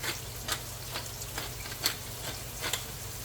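Onions frying in a pan with a little salt and pepper, a steady soft sizzle with occasional light stirring clicks, close and fairly quiet with no talking.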